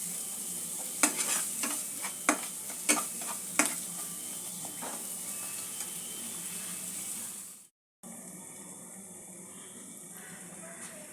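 Spices frying in oil over low-to-medium gas flame for besan kachori filling, a steady sizzle with repeated sharp scraping strokes of stirring early on, then a brief cut to a quieter, hissier fry.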